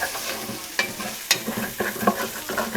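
Garlic cloves and grated potato fry in hot oil in a pan, a steady sizzle broken by sharp scrapes and clacks of stirring, close and alone with no talk.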